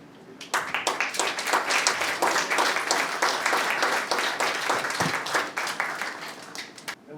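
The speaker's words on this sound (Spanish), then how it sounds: "Me gustaría que le diéramos un aplauso al poeta Roger Covelo." Audience applause for a poet at an academic panel on Central American independence, a dense burst of many hands clapping that rises quickly, holds steady for several seconds and then thins out.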